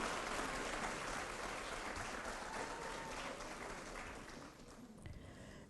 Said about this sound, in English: Let's give a round of applause to our College of Business and Public Affairs graduates.